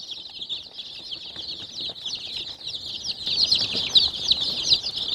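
Grey chickens cluck in a steady, overlapping chatter, a busy band of bird calls that grows louder and denser toward the end, with faint scuffling underneath.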